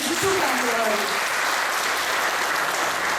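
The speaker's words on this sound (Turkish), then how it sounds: "Medya FM'deki arkadaşımıza da bir alkış gönderelim" Audience at a taxi drivers' meeting in Istanbul applauds in a steady, dense wash of clapping that fills the hall, with a brief voice over the start.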